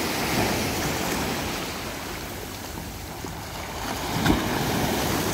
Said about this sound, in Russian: как красиво камни водой омываются морской